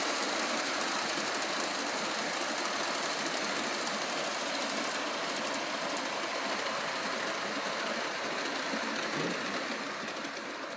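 A model train engine throttles up and gathers speed, making a steady, fairly quiet mechanical whir and rattle that runs unbroken for about ten seconds and tails off slightly at the end.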